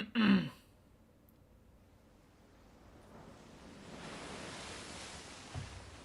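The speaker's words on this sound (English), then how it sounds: "The sound of crashing waves, the sound of the tide surging, the noise of the sea breeze." Crashing ocean waves from the Umineko visual novel rise gradually as a soft, broad wash of surf after a brief thump, swelling and holding steady.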